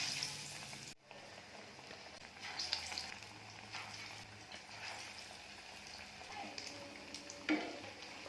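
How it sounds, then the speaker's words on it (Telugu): Bread slices dipped in gram flour batter deep-fry in hot oil, giving a faint, steady sizzle with soft bubbling and a few small pops. "ఒక్కొక్కటిగా ఆయిల్లో వేసుకోవాలి."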